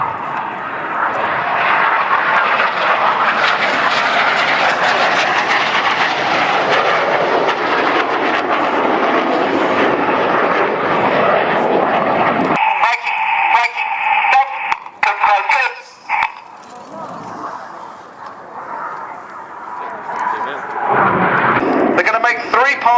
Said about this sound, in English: the synchro pair flying double rolls